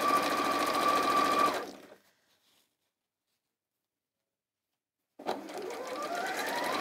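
A sewing machine stitching elastic onto fabric runs in a fast, steady whir, stops for a few seconds of silence, then starts up again, close and clear with no talking.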